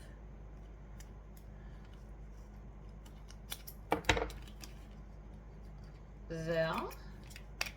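Scissors cut a strap in half for a harness build, giving one sharp, close snip over a faint background hum, with a brief spoken word.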